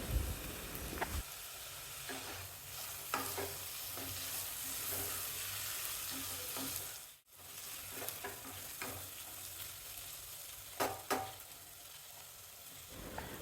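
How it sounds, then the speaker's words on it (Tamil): Masala with finely chopped coriander leaves stirred in a pan over a low flame, a soft steady sizzle broken by intermittent scraping strokes of a spoon, close and moderately quiet with no talk. "அடுப்பு லோ ஃப்ளேம்லேயே வச்சுட்டு மசாலாவோட பச்சை வாசனை போகிற வரைக்கும் நல்லா வதக்கிட்டு 1/4 கப் அளவுக்கு பொடிசாக வெட்டின மல்லி இலை அதையும் சேர்த்து கொஞ்சம் வதக்கணும்"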